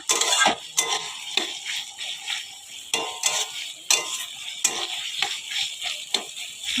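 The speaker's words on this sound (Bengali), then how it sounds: "পেঁয়াজটা ভাজছি একটু লাল লাল করে ভেজে নেব পেঁয়াজটা" Steady sizzling of onions frying in a pan, broken by irregular scraping clicks of a utensil stirring, close and fairly loud with no talking.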